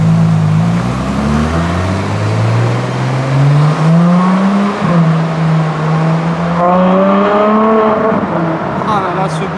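A sports car engine revving on a Monaco street, loud and close, rising in pitch through a sustained rev, dipping, then rising again as it pulls away amid street noise, with people talking excitedly over it.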